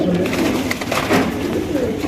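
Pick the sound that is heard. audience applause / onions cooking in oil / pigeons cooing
pigeons cooing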